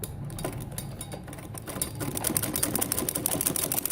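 A sewing machine stitches a Patiala salwar with rapid, even mechanical ticking that runs continuously at moderate volume and picks up slightly toward the end, with no talking.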